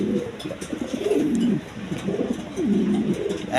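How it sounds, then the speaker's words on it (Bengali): Large, high-quality satin pigeons coo in repeated low, throaty phrases, several overlapping calls rising and falling close by with no talking. "একদম বিগ সাইজের কোয়ালিটি সম্পন্ন কবুতর দেখেন"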